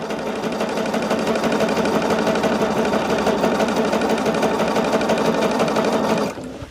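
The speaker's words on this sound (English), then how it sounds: "we're sewing everything at that 1/4 of an inch" A sewing machine stitches quilt pieces together at a quarter-inch seam, running loud and steady with a fast even mechanical chatter throughout, then stopping abruptly near the end.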